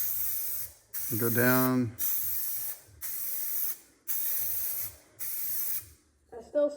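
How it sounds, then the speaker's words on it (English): Self-etching primer is sprayed from an aerosol can onto a 1979 GMC dually truck bed in five long, loud hissing bursts separated by short pauses, and a nearby voice talks briefly between them. "Bigger, longer sprays."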